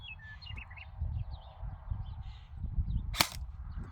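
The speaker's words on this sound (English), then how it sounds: "All right, Ryan, when you've got the shot, take it." A single sharp shot from a G&G Armament Combat Machine 16 Raider CQB airsoft AEG rifle cracks out outdoors during a hunt, brief and fairly loud over quiet ambient noise, with birds calling faintly in the background.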